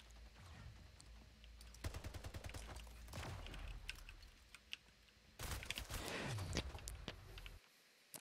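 Rapid bursts of gunfire in the video game Splitgate, with dense automatic shots alongside keyboard clicks and quick footsteps, fairly faint overall.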